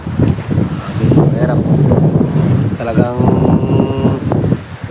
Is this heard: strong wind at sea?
yes